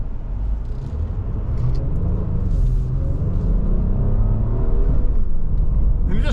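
A 2026 Honda Passport RTL-U midsize SUV accelerating on the road, with a steady, building engine rumble and road noise that grows slightly louder over several seconds, heard from inside the cabin.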